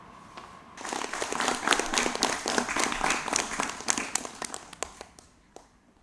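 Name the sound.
audience applause after a children's performance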